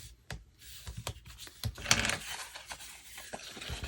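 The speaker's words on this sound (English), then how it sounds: "Go ahead and burnish that down." Paper pieces rubbed and burnished flat onto a handmade photo folio, giving close, soft scratchy rubbing strokes in short bursts with small taps.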